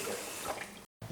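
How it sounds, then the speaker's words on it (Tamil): Mushrooms being washed in water, with a soft, continuous splashing and sloshing that breaks off for a moment before resuming. "ஃபர்ஸ்ட் வந்து மஷ்ரூமை நம்ம அலசி சுத்தம் பண்ணிடலாம்"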